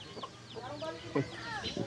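Chickens clucking nearby in short, scattered calls, with faint voices mixed in underneath.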